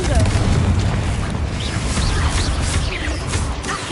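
Fiery Confringo blast spell from Hogwarts Legacy, a loud, dense booming burst of crackling energy that fills the moment, with game effects layered over a rumbling low end.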